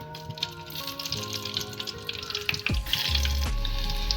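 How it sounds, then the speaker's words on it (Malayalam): Mustard seeds and dried red chillies fry in hot oil with a loud, close sizzle, then sharp crackling bursts near the end. "ഇനി കടുകിടാം കടുകിടാം ഇനി രണ്ട് വറ്റൽ മുളകിടാം"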